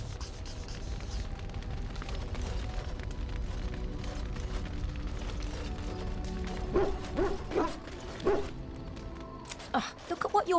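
A dog barks several times in Dragon Age: Origins, short yelps rising over a steady rumbling game ambience in the second half, with voices faintly present.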